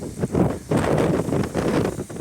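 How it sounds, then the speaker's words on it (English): Strong wind on a Pennine hillside buffets the microphone in heavy, gusting rushes, rising and falling over a couple of seconds with no voices. "It's still very windy, but not cold."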